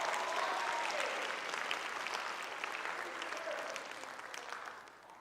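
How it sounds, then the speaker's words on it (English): Audience applause at a high school marching band showcase award ceremony, a steady wash of clapping from a sizable crowd that gradually tapers off, with faint voices underneath. "Please give him another round of applause, because he deserves it."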